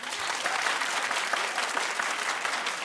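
A television studio audience bursts into dense, loud applause, many hands clapping continuously with no voices on top.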